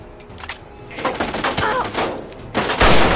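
Gunfire in a raid on raiders in a video game, with a few sharp shots landing a headshot, loud and bursty over game ambience.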